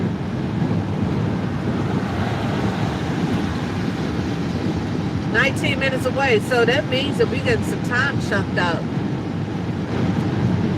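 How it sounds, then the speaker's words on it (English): Heavy rain pours on a car driving toward Siler City, North Carolina, a dense steady roar of rain and road noise throughout, with someone talking over it midway. "And it's pouring down raining."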